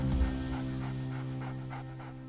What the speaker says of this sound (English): Callie is a 12-year-old German Shepherd Collie Cross.